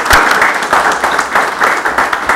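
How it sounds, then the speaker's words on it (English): A crowd applauds candidates at a candidates' night event, steady dense clapping at moderate loudness throughout, fairly near and continuous without talk. "A round of applause for our candidates."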